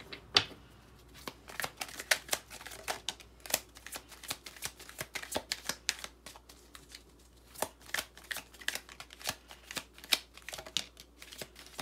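Tarot cards being shuffled, a long run of quick papery riffles and soft slaps in an uneven rhythm, close and moderately quiet with no talking.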